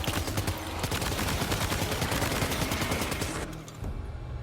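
Rapid automatic gunfire from a Death Stranding 2 weapon pours onto a BT in a dense, continuous volley of loud shots. It runs nearly four seconds, then cuts off abruptly and leaves a quieter rumble.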